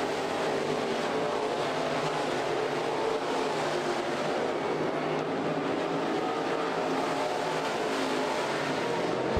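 Race cars running wheel to wheel on an oval track, engines roaring continuously and loudly throughout with a steady dense drone, no voices.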